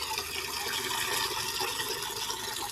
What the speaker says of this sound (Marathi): मी आता धोरायला पाणी देऊ राहिलो किंवा बादली भरू राहिलो.